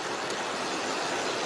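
A train passes near a cyclist in Montana, making a steady, loud, broad rushing roar of rail cars and wheels with wind noise mixed in.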